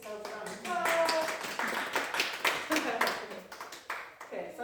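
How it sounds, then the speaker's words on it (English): A few scattered, fairly faint hand claps at a stress-relief and confidence session, sounding close by and running beneath continuous talking. "give yourself a round of applause"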